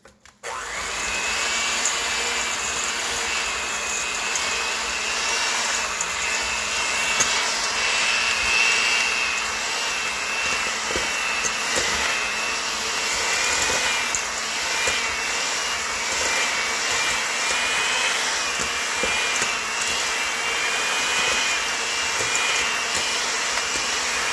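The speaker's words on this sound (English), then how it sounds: "I'm going to cream this together before I add in my peanut butter and eggs." An electric mixer whirs steadily as it creams butter and brown sugar into peanut butter cookie dough, a loud, continuous motor drone with a high whine running unbroken for about 24 seconds, no talking.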